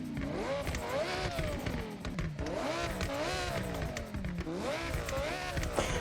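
A 2023 Audi R8 Coupe V10 with a stock exhaust and anti-lag, in the Forza Horizon video game, revving repeatedly in rising and falling sweeps, loud and close, with a steady engine roar between revs.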